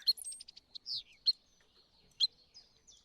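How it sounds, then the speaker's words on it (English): Birdsong from the Wingspan board video game, with bright high chirps and tweets: a quick trill, then a few separate sharp calls at a moderate distance, clear and alone. "Bird noises."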